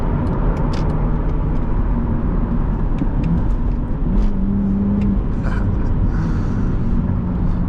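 Cabin hum of a 2006 BMW Z4 3.0si on a test drive: a steady, loud engine drone with road rumble and wind, with brief tonal changes in pitch as the engine revs shift.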